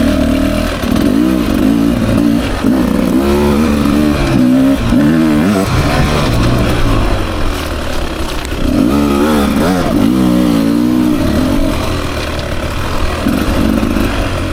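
A 2024 Beta 300 RR Race Edition dirt bike rides single track in second gear, its two-stroke engine loud and close, constantly revving up and easing off as the rider works the throttle through the trail.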